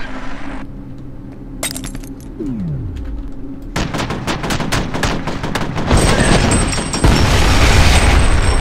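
Gunfire in the video game F.E.A.R.: a low hum gives way to a sudden loud burst, then dense rapid shots and crashing impacts that build steadily louder and harsher toward the end, with no talk.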